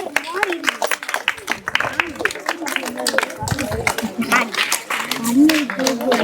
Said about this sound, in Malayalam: ക്ലാപ്പ് ചെയ്തേ